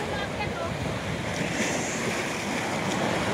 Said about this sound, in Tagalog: Ay, ang ganda ng alon